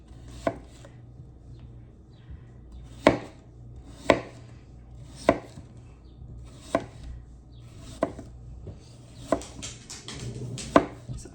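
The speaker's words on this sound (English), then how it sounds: "So I'm gonna slice these all up, put them in the container" A knife slices cucumbers on a board in sharp, separate chops spaced about a second apart, close and clear over a low, steady hum, with no voices.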